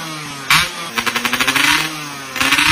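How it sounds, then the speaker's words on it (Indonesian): A loud, noisy motorcycle exhaust on a roadside revs hard in sharp bursts, with a rapid run of popping throttle blips between the louder roars, close and alone. "Tapi knalpot yang lu tau gak sih, lu lagi makan di pinggir jalan ngobrol sama temen lu terus tiba-tiba"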